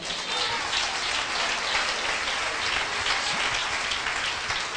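Congregation applause at a church service, a dense, steady wash of clapping from many hands that fills the whole stretch without a break or any voices over it.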